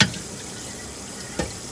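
A fresh bigeye ahi tuna steak sears gently in a pan on an induction range at low heat, giving a quiet, steady sizzle with a couple of soft clicks.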